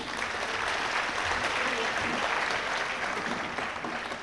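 A stage audience claps loudly and steadily for a mridangam player at an arangetram dance debut, dense continuous applause filling the entire stretch without pause.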